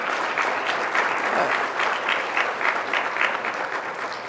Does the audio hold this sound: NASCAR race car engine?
no